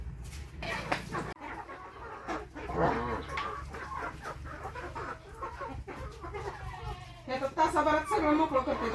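Farm chickens raised for eating cluck and murmur close by while someone talks over them, with soft pecking and shuffling and a louder burst of clucking near the end.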